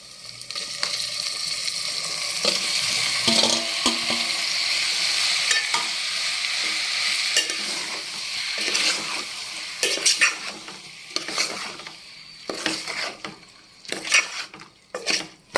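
Tomatoes and green chillies frying in a pan with ginger-garlic paste for a prawn tomato curry, a steady close sizzle broken by repeated scrapes and clinks of a stirring spoon against the pan.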